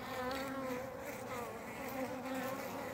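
Honeybees buzz steadily and densely in early spring, a close, continuous hum of many bees at once, with no voices present.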